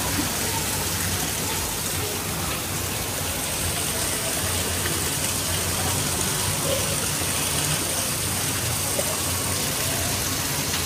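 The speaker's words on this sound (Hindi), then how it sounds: "उनके पंडाले से पानी किस कदर तेज बह रहा है ना" Heavy rainwater pours steadily off a pandal roof during a downpour, a dense, loud, continuous gushing rush that stays constant throughout with no voices.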